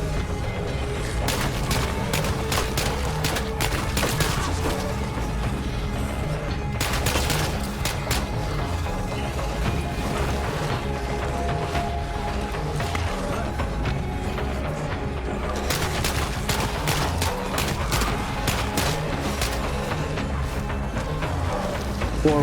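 Continuous gunfire in the video game State of Decay 2 fighting zombies, a dense, loud stream of rapid shots with heavier bursts throughout.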